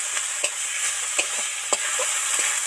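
Coriander leaves stirred into spice paste frying in a pan for a pangas fish curry: a steady close sizzle with soft scraping stirs at irregular intervals, no voices.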